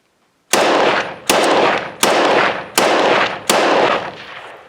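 Five loud, close rifle shots from a Norinco T97 Gen III, fired at an even semi-automatic pace about three quarters of a second apart, each a sharp crack trailing off into echo.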